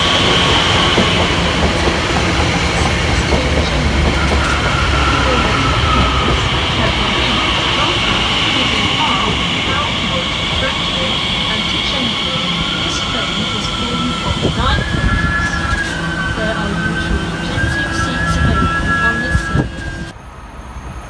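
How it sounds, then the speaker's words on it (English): Elizabeth line train 345001 pulls into a station, a loud, close rumble of wheels and motors with a high whine and a rising squeal of brakes as it slows, continuous throughout. "Next to arrive here at the station will be the 13:53 Elizabeth line service from Heathrow Terminal 5 through to Shenfield"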